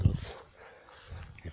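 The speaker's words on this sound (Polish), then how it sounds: "jest mój pies" A dog gives a couple of short yips or barks at the start and end, with a quiet gap between them.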